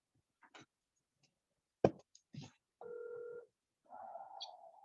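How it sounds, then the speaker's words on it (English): A telephone is dialed during a city redevelopment authority meeting: a few clicks and a sharp knock, then two short electronic tones in sequence, heard faintly in a quiet room. "Dialing now."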